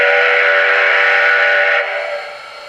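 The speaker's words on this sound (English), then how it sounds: "Great Northern 5 chime." Great Northern 5-chime steam whistle played from a TCS WOW heavy steam decoder in a model train, one loud sustained chord-like blast that drops and fades at the end.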